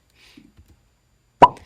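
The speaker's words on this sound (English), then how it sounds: "instead I added a pop sound" A single sharp pop, like lips smacking, used as a sound effect in place of a buildup beat before the drop in a remix; one loud close burst with a short tail, after faint soft ticks.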